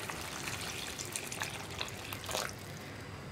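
Boiling hot water is poured into an onion curry cooking in a pan, giving a soft sizzling, bubbling wash of liquid that stays fairly faint and steady throughout.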